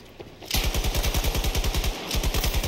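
Rapid automatic gunfire in the video game Battlefield 2042 during a holiday event, loud and close with a steady rattling burst, a brief break, then another sustained volley.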